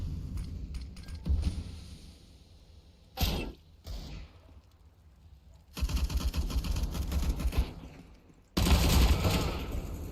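Automatic AK rifle fire in the CS:GO video game, sounding as loud sustained bursts with short isolated shots and thuds between them.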